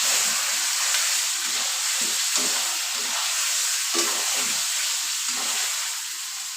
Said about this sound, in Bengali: জিরি বাটা, রসুন বাটা, আদা বাটা, জিরি বাটা সম্পূর্ণ মশলা দিয়ে আমি সুন্দর করে কষিয়ে নেব